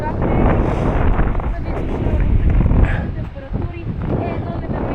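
Strong wind across a snowy snowkiting spot buffets the microphone in a steady, heavy low rumble, while people talk over it.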